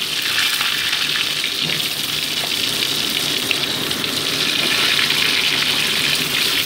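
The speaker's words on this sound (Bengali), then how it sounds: "নুন মাখানো আলু টুকরোগুলোকে গোল্ডেন ব্রাউন করে ভেজে আমি তুলে রাখছি।" Salted potato pieces fry in hot mustard oil in a kadai, giving a steady, loud, unbroken hiss of bubbling oil from start to finish with no talking.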